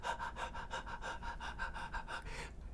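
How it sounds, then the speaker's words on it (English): A shaggy black dog pants softly and close by, about a dozen quick, even breaths in a steady rhythm that trail off at the end. "an impossible sound, the soft panting"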